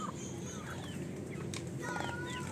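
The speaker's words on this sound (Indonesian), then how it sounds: "ini ayam Bangkok yang barusan kita pindah kandang" Four-month-old Bangkok fighting chickens cluck and chirp softly at a short distance in a simple coop, over a steady background hum.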